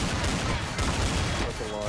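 Video-game gun fire crackles in a dense, rapid burst of sharp shots at moderate level, continuous through the short stretch with a slight break midway.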